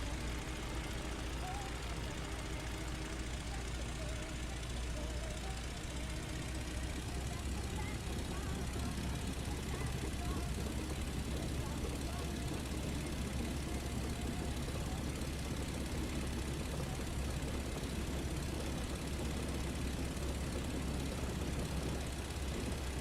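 A Fokker D VII biplane's engine drones steadily at takeoff in the flight game Rise of Flight, a loud continuous low roar for the whole stretch with no break.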